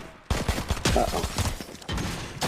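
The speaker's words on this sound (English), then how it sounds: "I hear gunshots coming from deep there." Rapid bursts of gunfire in the video game Crowns crackle in quick succession, loud and close, with several clustered volleys over a couple of seconds.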